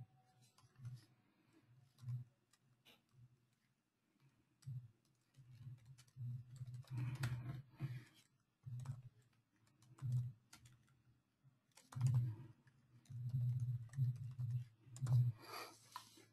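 Someone types on a computer keyboard in irregular bursts of key clicks, close and fairly quiet, with short pauses between runs.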